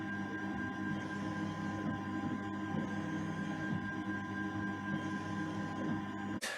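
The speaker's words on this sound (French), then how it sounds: "on va voir le fonctionnement d'une machine dite PolyJet" A PolyJet 3D printer runs with a steady mechanical hum and whirr, layered tonal drones and faint rhythmic movement, continuous and moderately quiet, ending with a sharp click.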